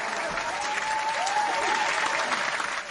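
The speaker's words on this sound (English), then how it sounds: "Round of applause." A continuous round of applause from an audience, dense and steady at moderate distance, with a faint whistle or cheer rising briefly over the clapping.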